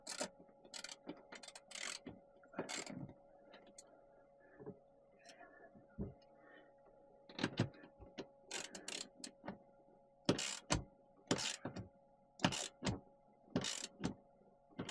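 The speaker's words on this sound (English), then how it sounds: "He's tightening that end up, and then he'll put this end on." A battery cable terminal on a DIY solar battery setup being tightened with a ratcheting tool, giving irregular bursts of close, sharp metallic clicks and clatter over a steady low hum.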